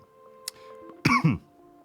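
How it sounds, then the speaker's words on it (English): A person coughs twice in quick succession, close and fairly loud, after a faint earlier click, with low steady background hum and no talking. "I'm still coughing a lot."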